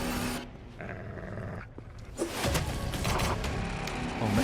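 A dog growls in a VR first-person shooter resembling Metro, low rumbling snarls building through the second half over steady game background noise, fairly close and loud.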